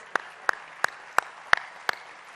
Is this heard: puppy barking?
no